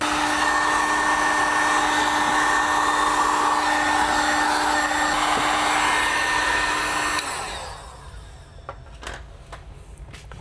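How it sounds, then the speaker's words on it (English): A heat gun blows steadily and loudly for about seven seconds while vinyl door skins are fitted to a 2019–2025 Toyota RAV4, then cuts off, leaving faint handling clicks. "Then we'll grab our heat gun."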